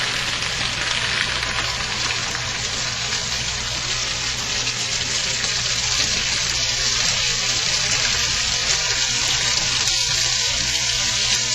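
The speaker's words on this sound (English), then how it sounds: "you'll see how the cheese is going to sizzle up for you" Cheese and spaghetti fry in a hot pan with a loud, dense, continuous hiss and crackle, close up and steady for the whole stretch, with no one talking.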